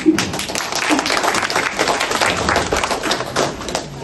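A steady wash of crowd applause at a Tamil poetry recital in Leicester, many hands clapping continuously at a moderate, even level for the whole stretch.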